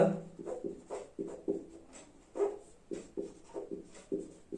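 Chalk or marker writes on a board in a quick series of short, distinct scratchy strokes, faint and close, each stroke separated by brief pauses.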